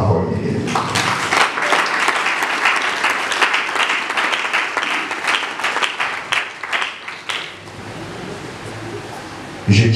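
A congregation at a funeral vigil bursts into loud, dense applause that carries on for several seconds, then tapers off to quiet room noise.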